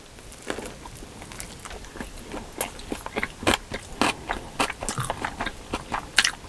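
Close-up chewing of gimbap filled with mustard leaf kimchi and tuna, eaten at the seaside in Yeosu: moist bites and crunchy chews repeating steadily for several seconds, with no talking.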